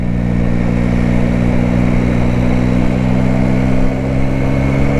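A 2021 Yamaha Tracer 9 GT motorcycle engine hums steadily while riding, with a loud, continuous low drone and wind noise and no talking.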